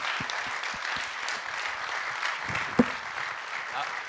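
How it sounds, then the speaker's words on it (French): An audience applauds actress Isabelle Huppert at an art and technique gathering, a soft, distant round of clapping that carries on evenly, with a few louder nearby claps and a sharp knock partway through. "je vous invite à applaudir Isabelle Huppert pour cette expérience"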